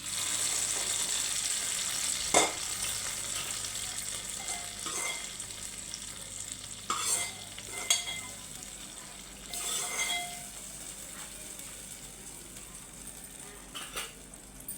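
Fried dry fruits added to jaggery rice pudding in a pot, soft sizzling under scattered spoon clinks and scrapes against metal, a few sharper taps, close but quiet, no talking.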